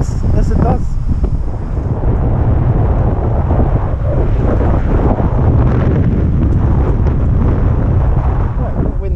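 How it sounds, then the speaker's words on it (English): Strong wind buffets the microphone outdoors beside an electric moped, a loud continuous roar and rumble filling the whole stretch, with speech partly buried underneath. "a bit windy, but a quick stop just to see how we're doing on charge"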